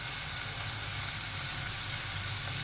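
Ginger garlic paste sizzling in hot oil in a frying pan, a steady close hiss with a low rumble beneath, unbroken and fairly quiet throughout.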